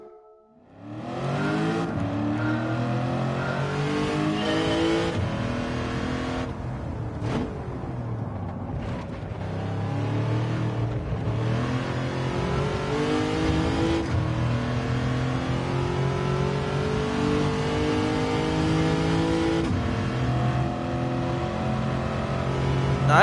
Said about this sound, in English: I haven't been around the SC430 Super GTs in a while. Do they actually sound like this?